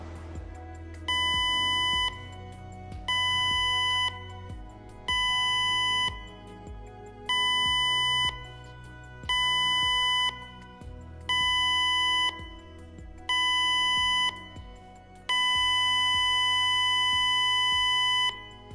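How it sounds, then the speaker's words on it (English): A cruise ship emergency signal on the speaker system: seven short electronic alarm blasts in steady rhythm, then one long blast, loud and tonal over a low background hum. "you will hear 7 short blasts followed by 1 long blast on the ship's speaker system"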